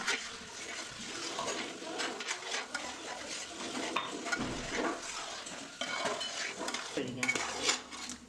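Jackfruit halwa mixture with wheat milk being stirred in a pan, a steady run of scraping and clinking of a utensil against the metal pan with faint sizzling underneath, continuous and close.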